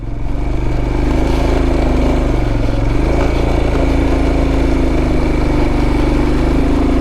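A motorcycle engine pulls steadily in first gear on a high-altitude mountain road in Ladakh near Umling La, a loud, close, continuous low drone with slight pitch shifts as it climbs, running throughout with no talking.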